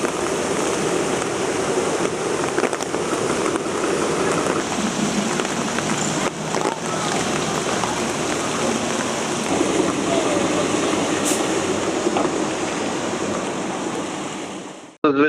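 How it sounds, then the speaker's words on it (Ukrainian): Floodwater from a river that rose about a meter and a half after a dam breach rushes in a dense, steady roar, loud and close throughout, ending in a brief cut. "Це річка."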